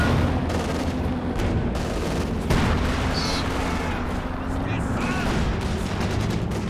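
SU-85 tank destroyer firing in Company of Heroes 2, a sharp shot around the middle amid a steady rumble of distant battle noise and engine drone, with other gunfire mixed in.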